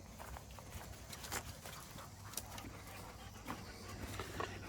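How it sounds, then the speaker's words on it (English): Dogs panting and shuffling around indoors, their paws padding and clicking on the floor, all quite faint and steady with no clear talk over it. "Crazy dogs."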